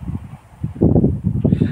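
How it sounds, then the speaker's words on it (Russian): Strong wind gusts buffet the microphone outdoors at a test of a prototype airsoft shotgun, producing a low, fluttering rumble that swells and grows louder in the second half. "Ветер сегодня ужасный, так что прошу простить за звук."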